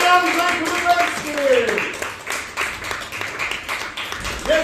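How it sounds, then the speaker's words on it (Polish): Open mic comedy audience in a small venue claps and cheers after a set, patchy applause mixed with a host's excited voice talking over it. "Wielkie brawa!"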